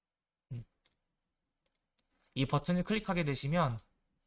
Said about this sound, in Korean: 이 버튼을 클릭하게 되시면